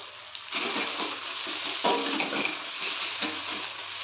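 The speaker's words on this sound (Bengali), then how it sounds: "মিডিয়াম টু হাইতে রেখেই আমি সমস্ত মশলাগুলো কষে নেব" Spices for prawn curry, with salt and turmeric, frying in a pan over medium-high heat, giving a continuous bright sizzle with scattered stirring scrapes, close up and without voices.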